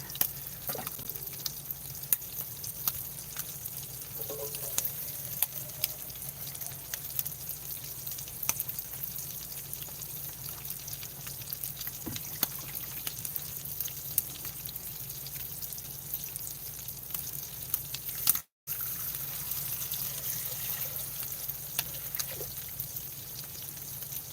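Lentils cook in a pot inside a camper, giving a soft, steady simmering and sizzling bed of sound with faint scattered ticks and bubbles, close by and quiet, with no talk over it.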